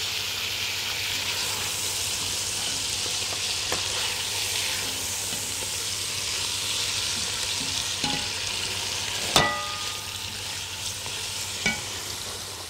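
Onions and lamb meat are stirred together in a pot for a peanut lamb stew, giving a steady loud sizzle with occasional sharp scrapes and clinks of the spoon against the pot.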